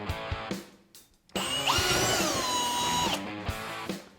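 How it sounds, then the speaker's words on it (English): A power drill whines loudly for about two seconds drilling a hole under the rear lip of an Otter XT X-Over ice fishing sled, its pitch rising then settling, between short bursts and clunks of handling noise. "We're going to go and drill that hole."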